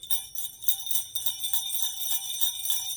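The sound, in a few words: jingle bells on a homemade Christmas noise maker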